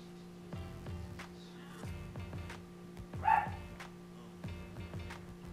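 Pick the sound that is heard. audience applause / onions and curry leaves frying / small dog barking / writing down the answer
small dog barking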